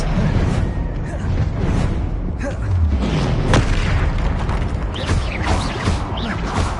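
Spell blasts from Hogwarts Legacy combat: a heavy booming explosion with whooshing and crashing debris amid a dense, continuous battle din, loud throughout with several sharp impacts.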